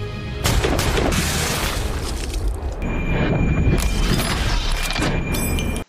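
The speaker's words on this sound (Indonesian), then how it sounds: "Brandon langsung melepaskan tembakan." Sniper rifle fire in a war film duel, heavy booming shots and rumbling blasts layered with dramatic soundtrack, loud and continuous.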